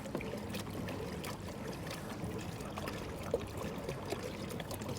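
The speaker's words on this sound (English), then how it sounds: "We're moving. Pedal drive's very smooth so far." A FeelFree Lure 13.5 pedal kayak moving through water, soft continuous splashing and trickling at the hull, quiet and close, with a faint click or two.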